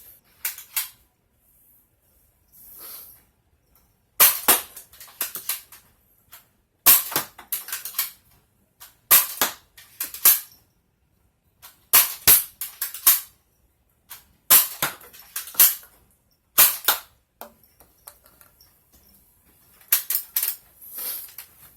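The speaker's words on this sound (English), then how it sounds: "we're going to go ahead and try it with the Elites, the X-Shot, and the Busby darts" A Dart Zone BlitzFire toy blaster fires foam darts at a target, each shot a sharp loud pop with a hiss, spaced a couple of seconds apart in a long series with quiet gaps between.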